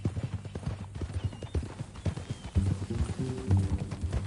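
Horse hooves clip-clop at an easy ride in Red Dead Redemption, the steady rhythm running throughout beneath game music, with a brief whinny and some quiet talk.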